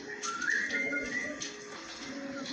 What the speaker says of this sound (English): And then you hear whistling there as well.